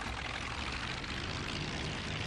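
Sea Fury propeller fighter engine in the IL-2 1946 flight game, a loud, continuous droning roar with broadband rushing noise, steady and close throughout without speech.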